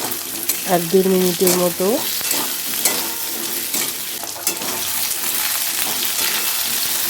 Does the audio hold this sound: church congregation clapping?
no